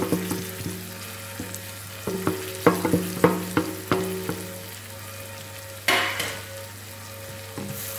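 Chopped onion greens added to onions sautéing in a pan, a soft sizzle under repeated scraping and knocking of a spoon against the pan, close and moderately quiet, ending with a brief louder rush.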